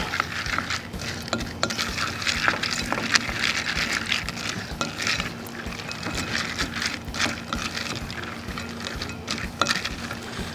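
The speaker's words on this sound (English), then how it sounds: "Now you just take your marinade, dump it on top, mix them up real good." Peanuts mixed with barbecue marinade in a container, giving a steady close-up rattling, pattering and scraping that runs continuously with no talking.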